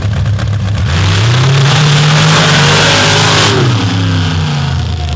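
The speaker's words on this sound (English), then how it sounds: "It is Jeff Smith at the wheel tonight in the modified paddle class behind the wheel of the Mud Pony." A modified paddle class drag boat roars loudly at a night race, the engine note climbing steadily and then dropping off, with a steady wash of water and crowd noise beneath it.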